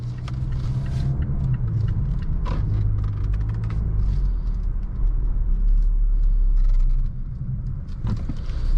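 A 2020 Mazda CX-9 Signature engine drones low and steady under road rumble while driving, with faint cabin creaks and a slight swell in power partway through.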